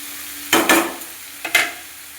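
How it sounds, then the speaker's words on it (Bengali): Vegetables being stirred into lightly fried spices in a pan give two short bursts of scraping and sizzling, each a quick double stroke, over a faint background hum. "হালকা মশলাটা ভেজে সবজিটা দিয়ে দিলাম। নাড়াচাড়া করলেই হয়ে যাবে। একটু নাড়াচাড়া করে দিচ্ছি।"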